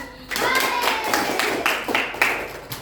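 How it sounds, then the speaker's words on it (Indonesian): A classroom of pupils claps their hands together in a short burst of applause, several rhythmic claps growing into scattered clapping, fairly close and loud. "Beri tepuk tangan."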